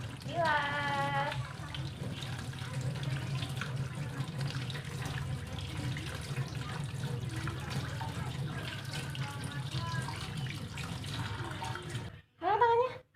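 Running tap water rinses a child's hands, a steady hiss of water under a woman's speech, stopping near the end before a short burst of talk.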